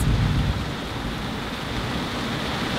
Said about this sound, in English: Massive thunderstorm right above us